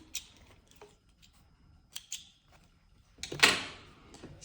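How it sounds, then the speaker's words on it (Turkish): Scissors snip sewing threads close to a seam during garment sewing, a few quiet crisp cuts spread across the clip, then a louder rustling snip near the end, with no talking. "Sonra iplerimi yine aynı şekilde dibinden kesiyorum."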